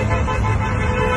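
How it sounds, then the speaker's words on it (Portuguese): Loud, sustained car horns blare together on a jammed highway in Salvador, Bahia, during a roadside honking protest, overlapping tones droning without pause over traffic rumble. "tá ouvindo isso aí. Buzinaço fora Lula aqui em Salvador."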